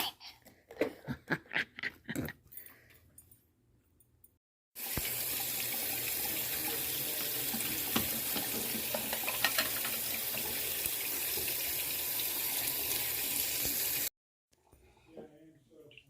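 Water pours steadily from a tap into a cup for about nine seconds, a loud continuous rush that starts and stops abruptly, with no talk during the flow.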